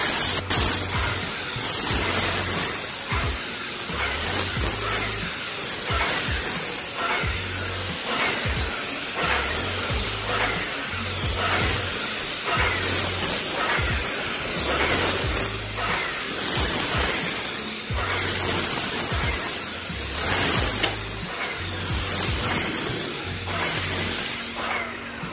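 Spray gun coating timber door and window shutters, a steady loud hissing spray running continuously with brief pulses, close and alone without talk.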